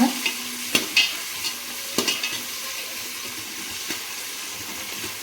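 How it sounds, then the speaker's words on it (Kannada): Vegetables for palak pulao frying in a pan, a steady hissing sizzle broken by a few sharp scrapes and clinks of stirring. "ಈಗ ಇವೆಲ್ಲ ತರಕಾರಿ ಚೆನ್ನಾಗಿ ಫ್ರೈ ಆಗಲಿ"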